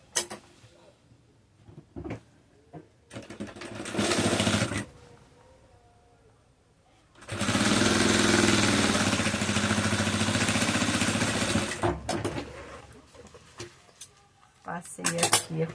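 A sewing machine stitches a straight seam on fabric for a Kombi-shaped travel case. It makes a sustained, loud mechanical whir in two runs with a pause between, and clicks and handling sounds come before and after.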